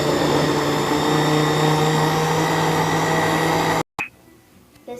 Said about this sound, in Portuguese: E ele já ligou o liquidificador para mim.